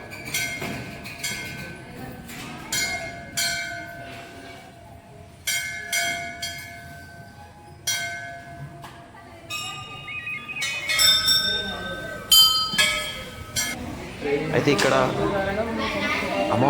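Temple bells at the Musalamma goddess shrine in Gunjedu, Mahabubabad, struck repeatedly in uneven clusters, bright ringing tones overlapping and fading, with voices and crowd noise rising toward the end.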